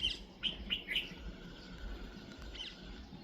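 A parrot eating a pear gives several short sharp chirps in quick succession near the start, then settles into quieter faint calls over a soft background.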